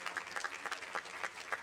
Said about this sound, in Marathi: मिलिंदजी पांडे यांच्यासाठी एकदा टाळ्या